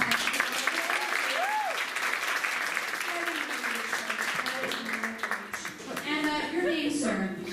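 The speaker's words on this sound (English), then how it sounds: "please have a round of applause for our class" A crowd at a live show applauds for a class, steady loud clapping throughout with a few voices and cheers rising above it.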